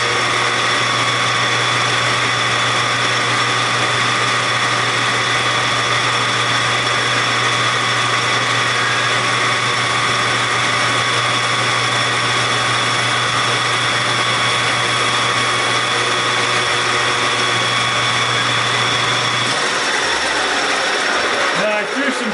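A machine cuts the chamber of a rifle barrel, throwing chips and shavings, with a loud, constant whining and humming drone that runs steadily before winding down near the end.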